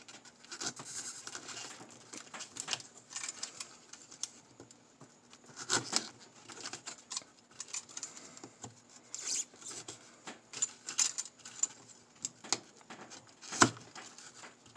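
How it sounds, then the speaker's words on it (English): A knife saws back and forth through a Dollar Tree foam terrain base, producing soft scratchy rubbing strokes in irregular bursts, close and fairly quiet with no talking. "We'll take our knife, lay it down, and just saw it to meet up with the base."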